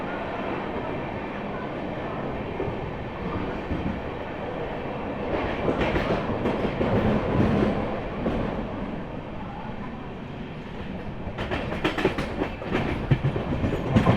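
The Sealdah–Benaras Amrit Bharat Express rushes through Bardhaman Junction at around 80–85 km/h, a continuous rumble with rhythmic clacking of wheels over rail joints and sharp bursts of rattling near the end.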